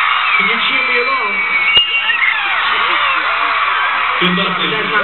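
An audience at a 2010 Camp Rock concert cheers continuously, a wash of high-pitched whoops and shouts, many sounding young, holding at a constant loud level throughout.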